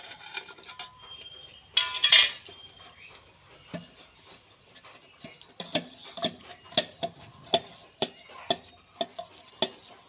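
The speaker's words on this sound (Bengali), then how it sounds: "এইভাবে নাড়িয়ে নেবেন ভালো করে।" Chopped guava is stirred with black salt and mixed spices in a bowl, giving close, sharp spoon clicks and scrapes in an irregular rhythm, with a brief rustle early on.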